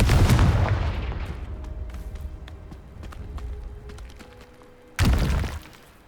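A Confringo fire spell in Hogwarts Legacy bursts with a loud explosive blast at the start, rumbling combat noise in between, then a second sharp impact near the end.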